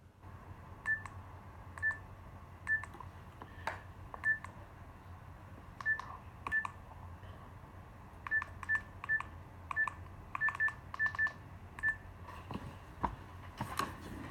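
A phone dials out to a wedding venue: a steady run of short touch-tone beeps, some spaced and some in quick clusters, crisp and close, with no talk.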